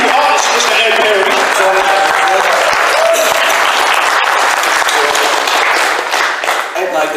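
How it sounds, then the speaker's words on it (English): A convention crowd applauds an artist with loud, dense clapping that holds steady for several seconds before tapering near the end, with some voices mixed in. "give Mr. Ed Perry a round of applause"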